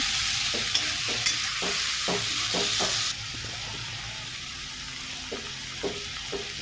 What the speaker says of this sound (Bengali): মশলাগুলো এখন পেঁয়াজের সাথে দেওয়া হয়ে গেল পেঁয়াজগুলো লাল করে ভেজে নেওয়া হয়েছে